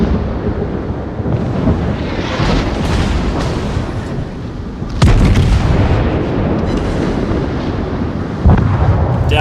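Battleship guns firing in a naval combat game, a dense rolling rumble of heavy cannon fire broken by sharper booming volleys about halfway through and near the end.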